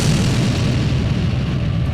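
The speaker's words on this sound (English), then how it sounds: "It's an explosion visible from the ground." Dramatic explosion effect for a sci-fi audio drama, a deep sustained boom with heavy low rumble that holds loud and steady for its full length.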